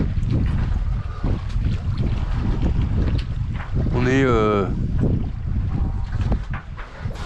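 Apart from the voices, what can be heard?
sailboat engine running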